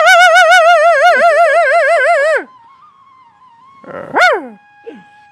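A native country dog gives a loud, wavering howl for about two seconds, followed after a quiet pause by a short rising whine and a faint yelp; no distinct barks stand out.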